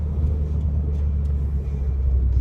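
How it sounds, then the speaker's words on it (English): Sports car engine rumbling steadily from inside the cabin while driving through city-core traffic, a continuous low drone with no break across the short stretch. "I love driving this car. I'm driving down in the city core right now."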